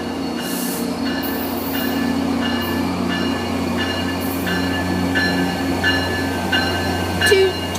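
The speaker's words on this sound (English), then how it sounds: "Metrolink train 643 over there." Metrolink commuter train with engine 861 passing at Fullerton, a loud continuous rumble with rhythmic wheel clicks over rail joints and steady tonal hum, close by and without talk.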